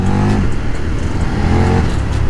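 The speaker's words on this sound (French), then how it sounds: "Vous savez que les petites accélérations comme ça que je fais," A KTM 1390 Super Duke R motorcycle engine revs and accelerates in short bursts, a loud, close, continuous low growl with rising and falling pitch, no talking.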